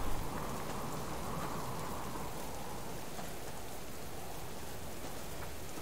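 Pouring rain in the video game Subsistence, a dense, steady hiss of heavy rainfall that fills the whole scene evenly and continuously, with no voices over it.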